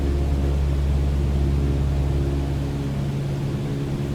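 Steady droning engine and propeller noise heard from inside the cockpit of a Cessna 152 in flight near Pensacola airport, constant loud hum with no variation and no talking.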